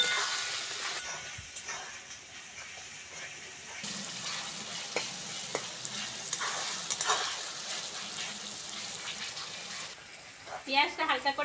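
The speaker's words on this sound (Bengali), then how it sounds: "পেঁয়াজটা হালকা করে ভেজে নিয়েছি" Chopped onions frying in a pan for Bengali chicken lotpoti, a steady close sizzle running throughout with occasional stirring scrapes, a brief splashy pour near the end, and someone talking over it.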